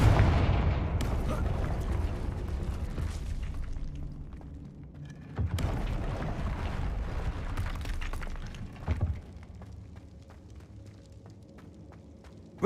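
Confringo blasting-spell explosions in the Hogwarts Legacy video game: a few heavy booming blasts with rumbling tails, spaced several seconds apart over steady game ambience.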